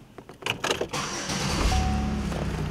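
A Chevrolet Impala engine cranks briefly and catches, settling into a steady close idle after a few clicks and clunks from inside the car.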